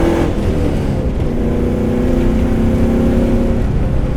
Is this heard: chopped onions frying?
no